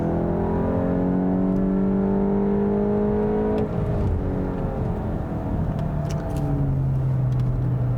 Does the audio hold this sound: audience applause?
no